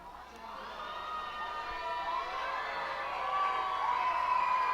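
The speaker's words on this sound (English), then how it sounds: "Crowd is just so excited about this contest." A minor-league baseball crowd at an Altoona Curve versus Reading Fightin Phils game cheers and shouts in the distance, a sustained mass of voices swelling slightly louder toward the end.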